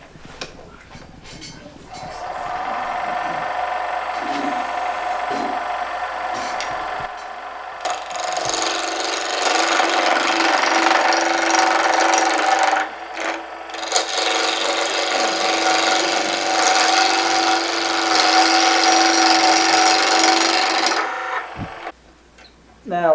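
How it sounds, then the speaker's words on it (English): A bowl gouge cuts a wooden acorn ornament spinning on a lathe, a steady, loud scraping rasp that runs for about twenty seconds with brief breaks and shifts in pitch as the tool moves along the wood. "I found I like to use like a bowl gouge for my corners here."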